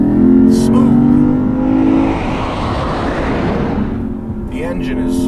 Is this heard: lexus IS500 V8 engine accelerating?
yes